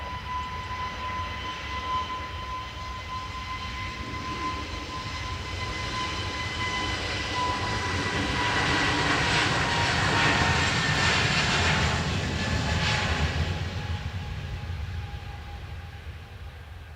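A British Airways jet takes off from the runway at Dublin Airport, its engines building into a broad, steady roar that swells to a peak midway and then slowly fades into the distance.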